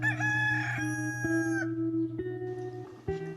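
A rooster crows in a drawn-out, wavering call, loud and close, with stepped pitch changes and a short burst near the end, no voices.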